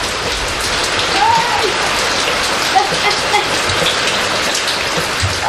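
Summer rain falls steadily on the streets of Salem's outlying neighbourhoods, a dense, even hiss of drops pattering on surfaces throughout, with a couple of faint distant calls rising briefly above it.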